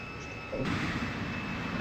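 An F-22 Raptor in the Jetfighter V flight game gives off a steady jet engine roar that swells suddenly partway through and stays loud until the end.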